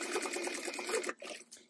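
Sewing machine basting Velcro onto fabric, a fast rhythmic mechanical stitching clatter close by for about a second before it stops, followed by a few faint clicks.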